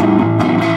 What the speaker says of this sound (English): I'm starting to get more distortion by having that drive in there. I like this because this is more of that classic overdrive.